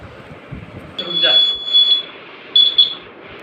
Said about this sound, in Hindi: जैसे ही ये ड्राई मोड दिखा रहा है तो यहाँ पे बजर एक्टिवेट रहेगा